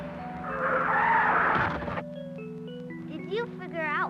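A car comes down a street in an old 16mm safety film, its tires skidding in a loud screech lasting about two seconds, then music and swooping tones follow.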